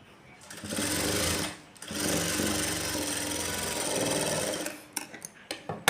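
A sewing machine stitching a folded blouse frill runs in three sustained whirring bursts with brief pauses between them, then ends in a few sharp clicks and knocks.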